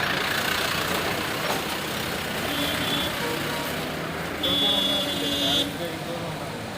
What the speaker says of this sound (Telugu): 157 పెద్ద బస్సు వస్తుంది.